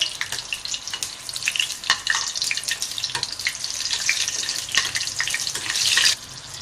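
Whole dried chilies, green chilies and curry leaves frying in hot oil, a close, continuous crackling sizzle with sharp pops scattered throughout and a louder burst near the end, no voices.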